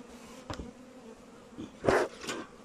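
Honeybees buzz outside a hive in sunshine: a soft background drone with several individual bees zipping loudly past the listener near the end, alone without voices.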